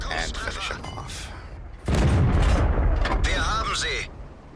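A tank cannon fires in a tank video game, giving a loud booming blast with a sustained rumbling tail. The shot follows a stretch of mechanical clatter, and some talk runs underneath.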